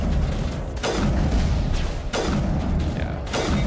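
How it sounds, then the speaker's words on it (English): Incoming rockets exploding in the game Mass Effect 1, three sharp loud blasts about a second apart, each trailing off in a rumble over a dense steady background. "And here come rockets."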